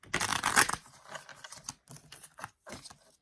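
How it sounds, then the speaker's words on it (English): A quick riffle of tarot cards at the start, then softer, scattered snaps and slides of the cards being handled up close. "let me just shuffle this guy right here"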